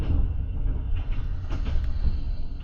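Overnight train in Armenia rolling into Armavir station, a steady low rumble with soft rattling of the carriage, heard from inside, continuous and fairly loud with no voices.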